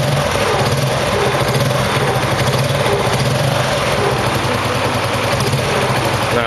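A Yamaha Mio motorcycle engine fitted with a PNP regulator runs loud and close at steady high revs, a constant buzzing drone with no pauses.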